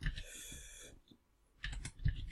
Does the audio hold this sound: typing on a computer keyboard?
yes